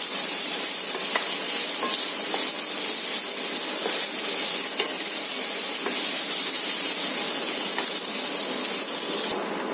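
Three sliced onions with garlic sizzle in a hot pan while being stirred for a Goan-style mushroom chilly, giving a loud, continuous hiss with faint scraping ticks scattered through it before it cuts off near the end.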